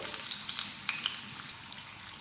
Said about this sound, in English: Fry it evenly and make it brown, golden brown, and turn it whenever needed.